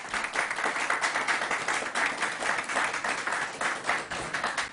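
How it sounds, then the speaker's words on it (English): Audience applause for a city mayor at a COVID-19 briefing in Buffalo, a steady wash of many hands clapping that holds evenly for the whole stretch, moderately loud with no voices over it. "Let's give the mayor a round of applause."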